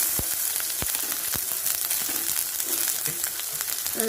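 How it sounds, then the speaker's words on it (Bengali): Chopped garlic and onion fry in hot oil in a wok, giving a steady, loud sizzle with occasional sharp crackles and pops, close by and without any talking. "রসুন আর পেঁয়াজটাকে একটু ভেজে নেব"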